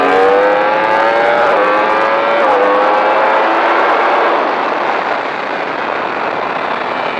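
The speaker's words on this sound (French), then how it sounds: "filet de gaz et accélération" A car accelerates hard on the Magny-Cours race circuit with a loud, close engine note whose pitch climbs through a gear change and then settles into a sustained roar, with no talking.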